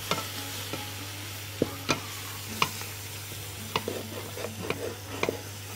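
Diced onion frying in a pan for kabsa, a constant close sizzle with sharp taps and scrapes of a stirring spoon at irregular intervals, over a low steady hum and without talk.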